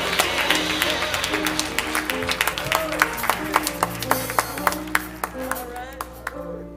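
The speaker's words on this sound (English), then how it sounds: "we need to give God the round of applause that he deserves" Church congregation clapping and applauding over steady organ-like music, with scattered sharp claps standing out near the front and some voices mixed in.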